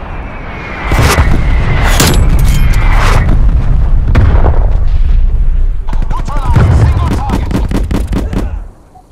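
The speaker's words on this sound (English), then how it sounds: "Sims requesting artillery action." Artillery fire in a video game: heavy booms and blasts repeat across the clip, with a burst of rapid shots near the end, loud and continuous, while a voice speaks over the action.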